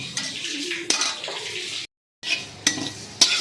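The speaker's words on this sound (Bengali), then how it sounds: "আর দিয়ে দিচ্ছি এক চামচ জিরে সাদা জিরে দিয়ে এটাকে ভালো করে নাড়াচাড়া করে নিচ্ছি" A spoon stirs cumin seeds and spices in a pan, making soft scraping swirls broken by sharp metallic clinks against the rim, with a brief pause midway.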